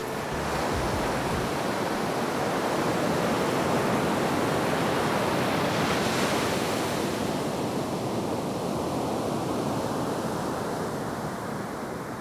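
Ocean surf at New Smyrna Beach roars steadily as a loud, continuous hiss of breaking waves, close and unbroken throughout, with no voices.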